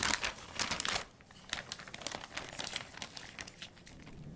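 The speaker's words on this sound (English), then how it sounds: "The pork belly goes in a gallon-sized zipper bag, then the cure mixture will be added to that" A gallon-sized plastic zipper bag crinkles and rustles in irregular bursts as cure mixture is rubbed into a pork belly inside it, close and fairly quiet.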